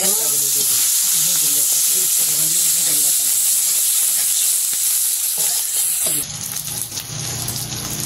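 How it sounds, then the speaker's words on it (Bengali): In a simple village kitchen, spices sizzle loudly in hot oil with turmeric, chili and salt, a close, hissing fry with stirring scrapes that quiets near the end, while a voice talks over it. "এদিকে মশলা সব কষে নিতেছে, হলুদ মরিচ লবণ দিয়ে দিচ্ছে"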